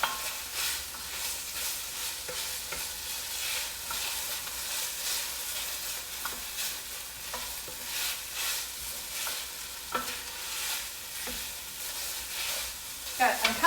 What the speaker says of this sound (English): I'm kind of scraping the bottom of this bowl as we go